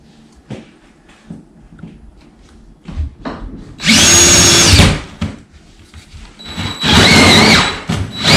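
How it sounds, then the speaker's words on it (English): A power drill bores a hole through an interior wall for mounting a Pioneer mini split heat pump, two loud whining bursts of about a second each over quieter handling knocks and taps, close and without talking. "Next, we will drill a hole through the interior wall."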